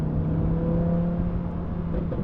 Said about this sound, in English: The engine note is amazing.